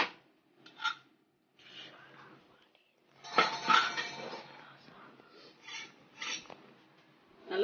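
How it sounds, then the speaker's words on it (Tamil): A metal pressure cooker lid is opened after cooking goat head curry, giving a few scattered clanks and clinks of metal alongside soft hissing and handling noise in a home kitchen. "இப்ப நம்ம வந்து குக்கர் மூடியை ஓபன் பண்ணி பார்த்துடலாம்."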